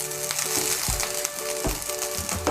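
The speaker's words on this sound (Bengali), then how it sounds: "এখন আঁচটাকে মিডিয়াম করে আমি আরও 1-2 মিনিট রান্না করে নেব" Fried rice seasoned with black pepper powder cooking in a pan over medium heat, a loud, continuous close sizzle broken by periodic scraping stirs.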